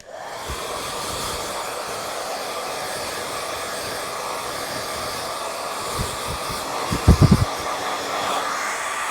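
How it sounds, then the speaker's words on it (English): A hair dryer blows steadily for about nine seconds as hair is dried away from a face during a haircut, with a few low thumps near the end. "I'm going to blow dry the hair out of my face here"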